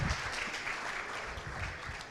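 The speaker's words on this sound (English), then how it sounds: "Round of applause, please, for Adam here." Faint, distant conference audience applause for a speaker at a Bitcoin event stage, a soft patter of clapping lasting a couple of seconds.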